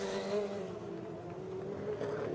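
An IndyCar from the Penske team revs its engine and pulls away from a pit stop during the 2002 Chevy 500 race. The engine gives a steady, fairly distant drone under general track noise.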